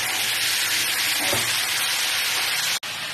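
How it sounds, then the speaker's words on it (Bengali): Chicken pieces frying lightly in a pan, a constant hissing sizzle with a soft rubbing scrape partway through, cut off abruptly by a brief gap near the end. "হালকা করে ভাজতে হবে, নাহলে চিকেন পিসগুলো শক্ত হয়ে যাবে"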